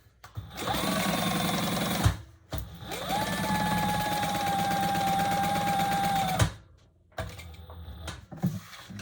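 A sewing machine runs in two bursts as it bastes along the bottom of a tote bag: a quick whirring stitch rhythm, close and clear, with a brief pause and handling sounds between.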